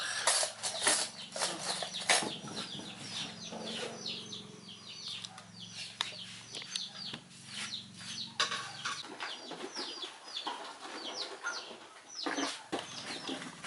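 Native Visayan chickens cluck and chatter in short bursts, fairly close, with a low steady hum running underneath.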